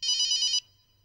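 A telephone bell rings in a short, rapid trilling burst lasting about half a second, then cuts off and fades out quickly, heard alone and close.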